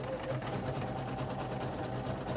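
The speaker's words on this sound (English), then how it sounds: "we're going to do with a wide zigzag stitch, you're going to zigzag over that elastic to hold it in place" A sewing machine runs a wide zigzag stitch over an elastic waistband on pajama bottoms, a steady close mechanical whir running without a break.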